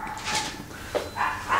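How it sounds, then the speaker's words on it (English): Indoor dogs let out a few short barks and yips, close and moderately loud, in quick bursts. "We love our dogs, but our dogs are constantly interrupting things."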